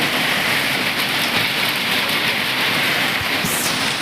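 Heavy unseasonal rain with strong wind pours down hard and close in Karad, a dense, unbroken roar of drops hitting surfaces with no voices.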